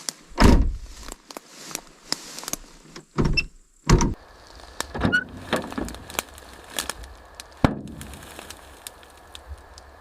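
An old abandoned Mercedes G-Class police car has its door worked open: a series of sharp clunks, latch clicks and metallic thuds, close and loud, separated by quieter rustling and creaks.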